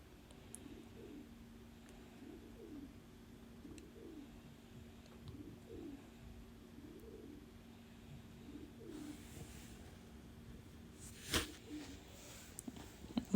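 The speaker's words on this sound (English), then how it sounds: "I'm sorry if you're hearing the pigeon in the background." A pigeon coos repeatedly in a steady rhythmic pattern in the background during mac and cheese preparation, soft and somewhat distant, with faint kitchen clatter and a brief louder clank near the end.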